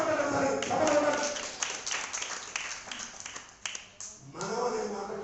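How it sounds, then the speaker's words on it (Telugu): A church congregation claps hands together in a dense, scattered burst that rises and fades over a few seconds, mixed with voices talking. "చప్పట్లు కొట్టండి ఒకసారి, చప్పట్లు కొట్టండి"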